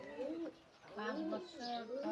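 An old pigeon, at least fifteen years of age, coos in soft repeated phrases close by, with a brief pause between calls.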